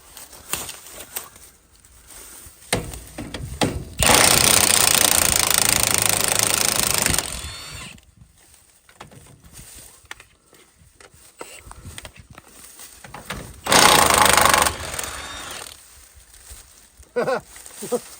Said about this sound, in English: we brought some power tools with us.